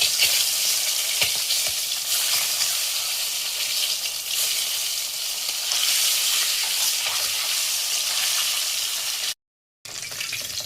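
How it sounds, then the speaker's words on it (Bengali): Eggs frying in hot oil in a wok for an egg curry, a loud, steady hiss and crackle filling the whole stretch, with a brief silent gap near the end and no talk. "ডিম ভেজে নেব আগে"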